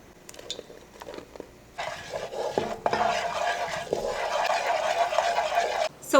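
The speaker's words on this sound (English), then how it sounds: "I'm going to constantly go back and forth and give it a whisk." A whisk scrapes and clatters against a pot of gumbo roux in quick back-and-forth strokes, close and fairly loud, after a few light knocks at the start.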